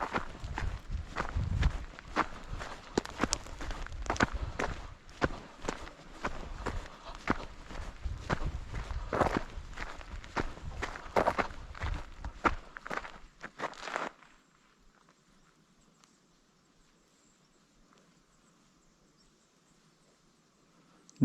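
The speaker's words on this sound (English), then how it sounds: "Just me walking on stones." Steady crunching footsteps on stones for about fourteen seconds, close and fairly quiet, followed by near silence.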